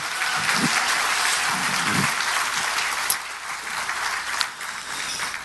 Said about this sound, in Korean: 함께 자축의 박수를 보내주시기 바랍니다